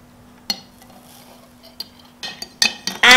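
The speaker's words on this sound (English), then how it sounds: "And stir it until it melts, dissolve." A spoon stirs borax into hot water in a container, making scattered clinks and scrapes against the sides. The clinks start sparse and grow louder and busier toward the end, with no voices.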